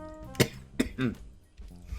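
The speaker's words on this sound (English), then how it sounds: "Sorry about my coughing today." Several sharp coughs in quick succession, close and fairly loud, followed by a rough throat-clearing sound.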